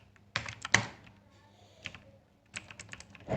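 Someone types on a computer keyboard while entering text in InPage, producing bursts of quick, close clicking keystrokes separated by short pauses, with no talking.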